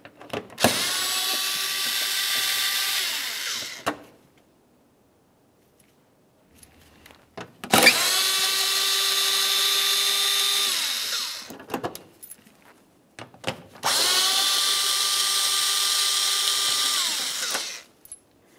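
A power tool whirs in three separate bursts, each about three to four seconds long, as it removes T30 bolts holding the bumper cover on a 2005-2010 Dodge Dakota, with quiet pauses between bursts.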